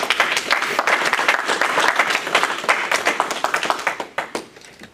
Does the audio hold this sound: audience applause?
yes